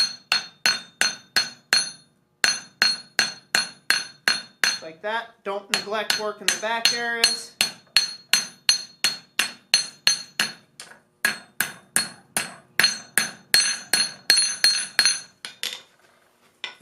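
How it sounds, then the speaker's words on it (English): Hot steel rings under a hammer while a flux spoon is forged, a fast, bright, metallic tapping of many sharp strikes in steady rhythm, with a brief flurry of quicker blows; a voice talks briefly near the end. "Just hammer that around."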